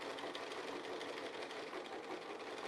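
A sewing machine stitches along a reference line on an arrow quilt panel, a steady, fairly quiet continuous whir with fine rapid needle ticking and no pauses.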